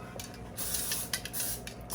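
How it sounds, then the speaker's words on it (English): Cooking spray hisses onto a pan in two or three short bursts, close and moderately loud, with no talking over it. "I'm gonna spray my pan"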